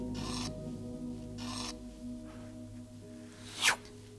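Thick textured paint scraped across a surface in two broad strokes, then a fainter pass and a short, sharper scrape near the end, all close and fairly quiet over a low hum.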